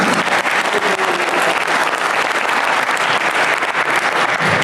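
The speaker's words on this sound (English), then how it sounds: "Would you please give a round of applause to CTRA's own Reverend Ernestine Holloway." Loud, steady applause from a panel-event audience greets a chaplain being introduced, dense clapping filling the whole stretch without a break.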